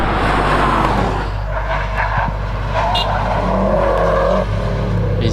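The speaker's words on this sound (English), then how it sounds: "Got Mark Dixon coming up in his STI WRX." Mark Dixon's Subaru WRX STI rally car climbs a hillclimb course, its engine note rising and falling through gear changes as it passes fairly close, loud and alone with no voices.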